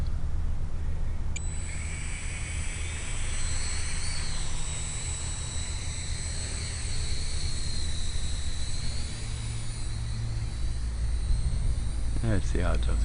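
A Blade MQX RC helicopter taking off and flying outdoors, its high thin motor and rotor whine rising near the start and holding steady before dropping off near the end, over background noise and some talking.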